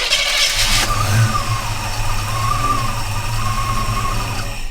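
A 1956 Chevy truck fitted with electronic ignition and EFI starts, a brief cranking burst that catches and settles into a loud, steady, close idle with a faint wavering whine above the engine rumble.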